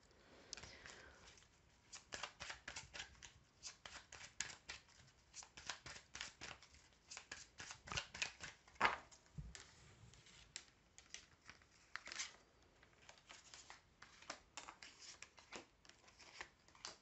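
Tarot cards are shuffled by hand in repeated quick bursts of papery riffling and slapping, close and crisp, with short pauses between rounds.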